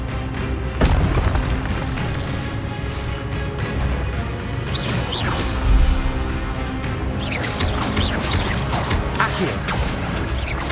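Booming bursts from the Incendio fire spell in Hogwarts Legacy, a few thuds and crackling whooshes over a steady rumbling game background.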